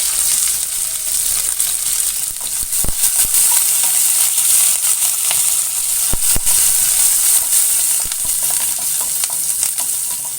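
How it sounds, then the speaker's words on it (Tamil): Small onions and curry leaves sauté in hot oil in a pan for a tamarind curry, giving a loud, steady, close-up sizzle with occasional stirring scrapes and pops, and no voices. "நெக்ஸ்ட் சின்ன வெங்காயம் போட்டுக்கலாம். கொஞ்சோண்டு கருவேப்பிலையோட நல்லா வதக்கிடுங்க."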